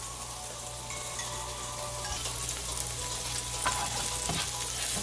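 Green onions frying in avocado oil in a pan for keto shrimp fried rice, a steady close sizzle with a few stirring clatters near the end, no voices.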